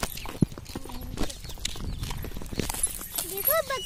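A herd of goats walks home along a village path, their hooves pattering in a steady shuffle, with a few bleats near the end and voices murmuring in the background.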